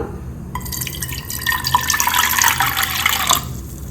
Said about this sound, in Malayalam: അപ്പോൾ ആവശ്യത്തിന് വെള്ളം ഒഴിച്ചു കൊടുക്കാം.